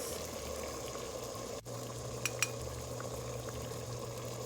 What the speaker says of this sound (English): I have some water on the stove boiling.